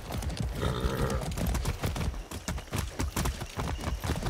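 Horse hooves clip-clop in the video game Far Cry 6, a steady run of close, rhythmic hoof strikes over continuous background game sound.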